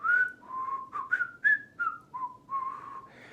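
A person whistles a wandering melodic tune in a gym, the notes gliding and stepping in short phrases, close and clear with no talk.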